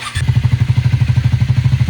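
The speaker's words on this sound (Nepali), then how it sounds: "कत्रो आवाज आएको यो बाइकको" A motorcycle engine idles loudly and very close by, with a steady fast thumping throb that sets in abruptly after a brief moment.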